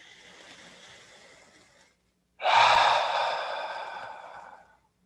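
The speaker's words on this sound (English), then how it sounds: "And then you breathe in." A slow breath drawn in during a guided breathing exercise, first a soft airy inhale, then a pause, then a louder and deeper rushing intake that fades out, close and with no talk.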